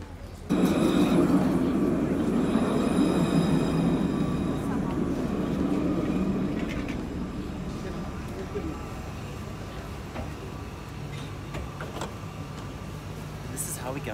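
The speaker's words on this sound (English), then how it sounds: "How we get on the tram." A steady rumbling tram ride in Grenoble with a continuous mechanical drone and rolling hum, gradually easing in loudness, with occasional faint clicks and rattles.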